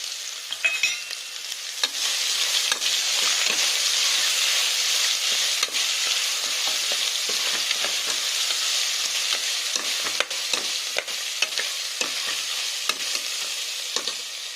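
Green chillies sizzle and crackle steadily in hot oil for ghee rice, with intermittent scraping stirs of a spoon against the pan throughout, close and fairly loud, no talking.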